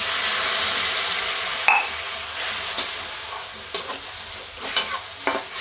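Roasted bottle gourd sizzles in a pan for apple and gourd halwa while a spoon stirs it, steady frying hiss broken by several sharp scraping and clinking strokes against the metal.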